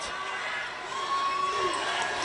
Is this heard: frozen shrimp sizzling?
no